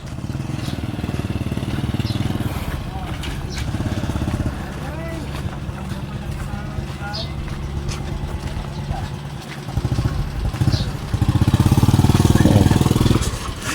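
A motorcycle engine runs steadily close by, a rough low drone that rises louder near the end, with people talking over it on a trip hauling bamboo for a fence.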